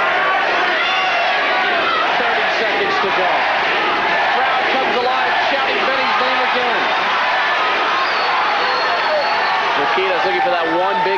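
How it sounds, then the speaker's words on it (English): Fight crowd at a kickboxing bout between Benny Urquidez and Yoshihisa Tagami, a dense loud roar of massed shouting voices sustained throughout, mixed with commentator talk. "Crowd comes alive, shouting Benny's name."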